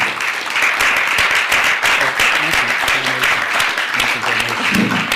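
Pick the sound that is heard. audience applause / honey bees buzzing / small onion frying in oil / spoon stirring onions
audience applause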